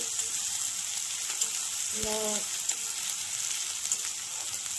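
Chopped onion and capsicum fry in hot oil tempered with cumin, a steady close sizzle running the whole time with a brief tonal beep partway through.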